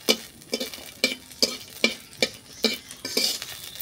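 Jute leaves frying and being stirred in a pan, with a steady sizzle broken by about eight regular, close scraping strokes of the spatula, evenly spaced roughly every half second, with no talking.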